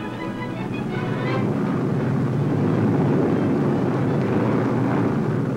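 RAF aircraft engines roar steadily during a wartime takeoff, a dense continuous droning rush of sound that swells slightly and holds loud throughout.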